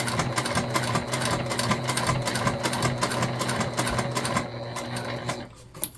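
A sewing machine stitches the seam of a crossbody bag in a fast, rhythmic run of needle strokes, close and clear, slowing near the end before a final click.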